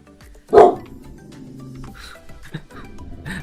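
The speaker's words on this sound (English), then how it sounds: "I told you he was gonna wake up barking." A dog gives one loud bark near the start, followed by quieter yips and rustling, all heard in a Minecraft modpack setting with background game noise.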